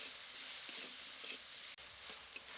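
Vegetables and tomato, seasoned with salt, turmeric and sugar, fry in a pan while being stirred, giving a steady close sizzle with faint scraping and one brief sharp knock.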